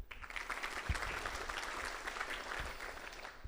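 An audience at a city State of the City event in Los Alamitos claps in a steady, moderately distant wash of applause that lasts throughout with no pauses.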